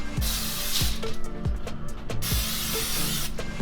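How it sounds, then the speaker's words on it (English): Steady hissing bursts of cooking oil spray onto three baking pans, several in a row with short breaks, close and fairly loud. "Now I'm just going to spray these 3 pans."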